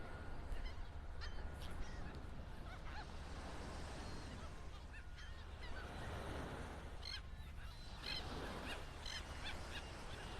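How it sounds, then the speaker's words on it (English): Crested terns and seagulls calling on Vanderbilt Beach in North Naples, Florida: scattered harsh squawks and cries rise over constant surf and wind noise, spread unevenly through the stretch, some closer and louder than others. "Love the bird sounds."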